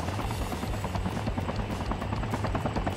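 Helicopter in the Call of Duty Mobile battle royale game, a steady, loud rotor drone with a rapid chopping pulse running throughout, no voices.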